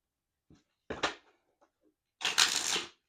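Tarot cards are shuffled in a few bursts, first soft taps and a short riffle, then quiet clicks, and finally a longer, louder riffling run near the end, all fairly close.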